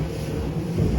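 A 2021 Quintrex 510 Freestyler boat running at speed, its engine a steady low drone mixed with wind and water rush, continuous and fairly loud for a short stretch.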